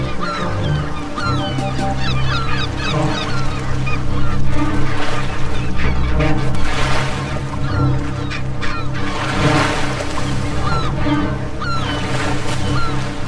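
Antarctic penguins call in a loud, dense chorus of overlapping honking, braying cries near a leopard seal, sustained without a break with some water noise beneath.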